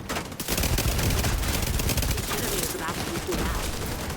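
Sustained rapid submachine-gun fire from the Dark Winter SMG in The Division 2, dense bursts of automatic shots crackling almost continuously after a brief pause at the start, loud and close amid game combat noise.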